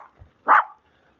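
A dog gives one short, sharp bark nearby, a single yelp in an otherwise quiet moment.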